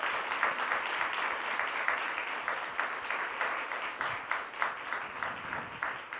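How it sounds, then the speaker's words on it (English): An audience at an Uber driver awards event applauds steadily, dense clapping from a crowd sustained evenly throughout, fairly loud and without talk over it. "Please join me in a round of applause for our weekend warrior, Fareed Al-Raj."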